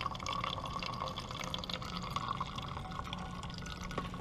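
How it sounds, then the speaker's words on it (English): Water runs in a steady stream from a Sawyer Squeeze gravity filter with a 2-liter bag into a Smartwater bottle, making a continuous soft trickle and fill sound at low volume. "we got a nice steady stream and we can just put it right into our smart water bottle and filter out some water"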